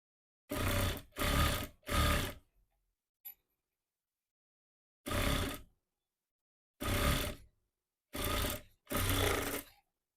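A sewing machine stitches the folded edges of Punjabi pants together, running in five short, close bursts with silent pauses between them and no talking.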